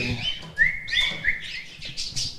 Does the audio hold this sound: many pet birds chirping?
yes